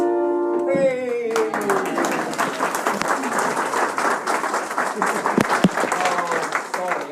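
An audience breaks into loud, sustained applause right after a sung number ends on a shout, the clapping dense and steady from a nearby crowd.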